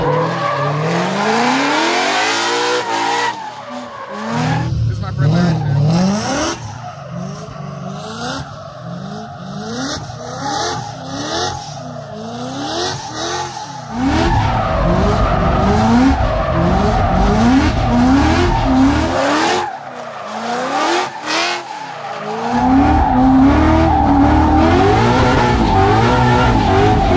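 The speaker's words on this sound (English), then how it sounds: "drifting cars now" Drift cars from the RTR Mustang team slide with sustained tire squeal and revving engines, loud and close, their pitch sweeping up and down over about 27 seconds, with brief drops between passes.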